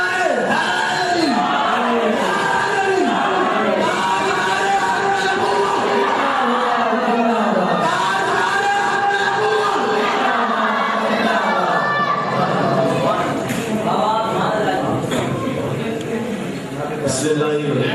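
Large gathering at a religious sermon in Murree, Rawalpindi roars back in unison to the slogan "Naara-e-Haidri", loud sustained massed shouting and chanting with a lead voice calling over the crowd.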